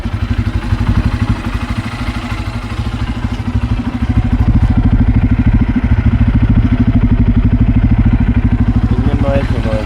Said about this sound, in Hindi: इंजन नॉइज सुनो इसकी